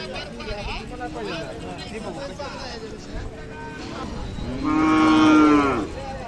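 A Khillar cattle market is crowded with animals; a cow gives a loud, long moo near the end over a constant hubbub of voices and other distant lowing.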